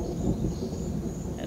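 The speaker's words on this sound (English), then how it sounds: "That's thunder." Thunder rolls as a low, continuous rumble that stays at a steady, moderate level throughout, with a faint higher tone above it and no clear crack.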